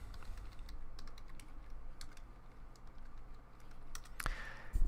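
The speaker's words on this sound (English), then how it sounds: "Because I can't type today worse than normal." Steady clicking of typing on a computer keyboard during a Python programming session, continuous rapid keystrokes at close range with no talking, ending in a louder burst.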